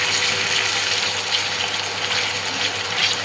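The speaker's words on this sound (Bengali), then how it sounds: "পুরো বাটাটা এইভাবে আমি তেলে দিয়ে দিচ্ছি।" Green banana peel paste frying in medium-hot oil in a pan, giving a steady, close, dense sizzle that holds even throughout with no voices.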